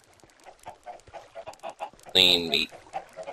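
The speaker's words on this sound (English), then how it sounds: "Here is the chicken farm where the chickens constantly take damage because they are suffering" Talk runs throughout, broken by a short, loud burst of squawking chicken clucks near the end: Minecraft game audio of chickens taking damage in a chicken farm.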